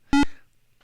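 A single short, bright electronic blip, a hand-coded QBASIC explosion sound from a video game on a Raspberry Pi 400, loud and buzzy, fading quickly into quiet.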